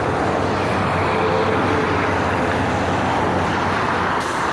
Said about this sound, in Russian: вот тут автострада. С утра до вечера шум машин.